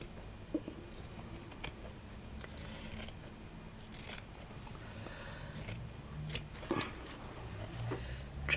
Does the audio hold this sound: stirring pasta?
no